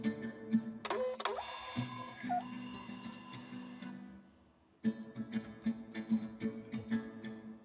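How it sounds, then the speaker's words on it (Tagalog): A Flashlabel A318 thermal printer printing a waybill whirs and ticks in short bursts, with a steady mechanical hum, a brief pause, then rapid repeated ticking as it feeds. "ipiprint natin siya sa mas maliit na papel"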